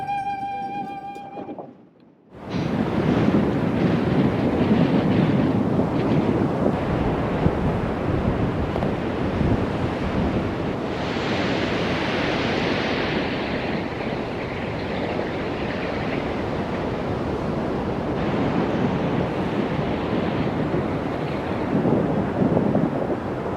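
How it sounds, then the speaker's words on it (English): Strong wind buffets the microphone on the shore of Achill Island in the west of Ireland while raging sea waves roar continuously, a loud, dense rumble with surges, after a brief quieter opening. "It's quite windy, the seas are raging mad"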